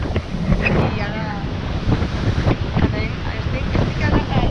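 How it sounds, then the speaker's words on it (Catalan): Strong wind gusting at the sea on the far side of Tabarca island, roaring steadily into the microphone with surf and waves beneath, loud and continuous throughout. "Hi ha un muntó de vent fortíssim."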